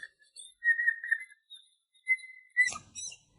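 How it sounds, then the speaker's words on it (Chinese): A young parrot gives its typical call, a series of thin, clear whistles and chirps in short phrases that end in a brief rough squawk, heard close and alone. "别人家的鸟叫出来都是这动静的"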